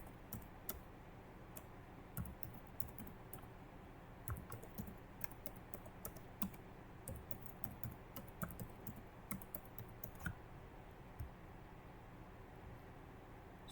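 Quiet, irregular key clicks on a computer keyboard as a password is typed, light taps scattered in bursts over a faint steady hiss with no voices.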